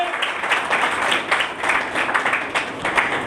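A church congregation bursts into loud, sustained applause during a Father's Day sermon, many hands clapping densely and continuously.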